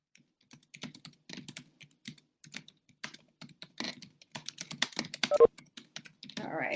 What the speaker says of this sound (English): I'm just typing a comment for you.